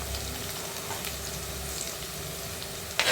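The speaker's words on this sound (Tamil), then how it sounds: "அதையும் சேர்த்து நல்லா வதக்கிக்கிடுவோம் இது நல்லா வதங்கட்டும்" Green chillies frying in a pan, a steady moderate sizzle throughout with a brief clatter at the end.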